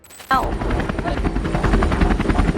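A rescue helicopter's rotor thumps in steady rhythm after a sudden start, loud and close, its engine droning continuously throughout.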